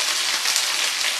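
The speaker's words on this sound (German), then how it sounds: "dann kann ich da schon mal die Kartoffeln reingeben" Potatoes frying in a hot pan give a loud, dense, continuous sizzle and crackle, steady throughout with no voices.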